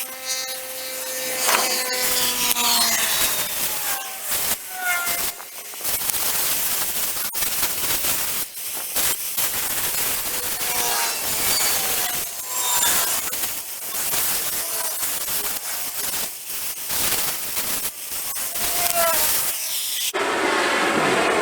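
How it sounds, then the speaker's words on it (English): An oxy-acetylene cutting torch cuts red-hot metal with a jet of oxygen while an old trailer is being restored. It gives a steady, close roaring hiss that runs the whole time and swells into a harsher burst near the end. "you're going to get your metal red hot until it's melting a little bit, and then hit the oxygen"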